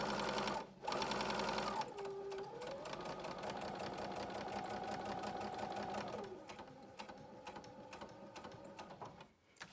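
Sewing machine stitching a seam on a 100% cotton gaiter, running in a steady close mechanical whir with a brief pause early on and the motor pitch shifting mid-run before slowing and stopping near the end.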